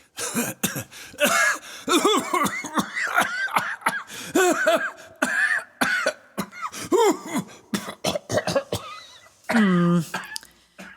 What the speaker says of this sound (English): If you're playing for sympathy by staging a coughing fit